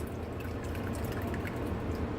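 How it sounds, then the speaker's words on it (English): Lye water is poured steadily over oils while making cold process soap, producing a soft continuous liquid trickle with faint dripping, quiet and close, with no voices. "I'm going to mix my lye water carefully pouring it over my oils"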